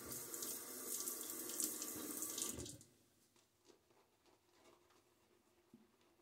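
A tap runs into a sink while a dense shaving brush is wetted, a loud steady rush for nearly three seconds, then it stops and leaves quiet patting and dripping sounds close by.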